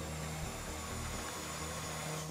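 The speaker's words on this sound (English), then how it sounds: "Try to drill as much as you can." Drilling during a casino heist in GTA Online: a steady, continuous mechanical whir with a low hum underneath, holding at an even level throughout without pauses.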